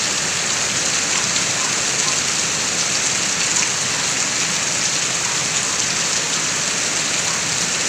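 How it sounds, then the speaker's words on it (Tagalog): Heavy typhoon rain pours steadily and loudly, a dense unbroken hiss of downpour drumming on surfaces close by with no letup throughout. "na umuulan na ng malakas"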